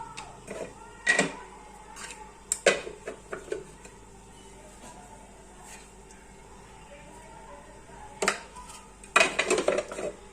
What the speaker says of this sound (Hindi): इसे कर लेंगे अच्छी तरह मिक्स।